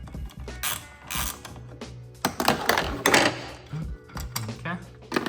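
A 13 mm socket ratchet clicks and rattles in short bursts while loosening the wiper arm nuts on an Audi TT Mk1, close-up with metallic handling noises between strokes.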